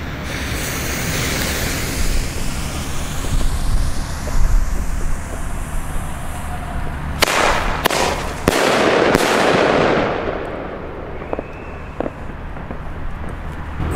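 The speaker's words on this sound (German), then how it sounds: "Und jetzt noch zwei Pyromax von der Airbomb." Pyromax Airbomb fireworks go off outdoors, a rushing build-up followed by several sharp, loud cracking bangs in quick succession, then fizzing crackles trailing off, with wind and distant traffic-like noise underneath.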